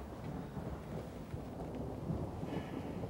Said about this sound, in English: And it likes to rain down here in Texas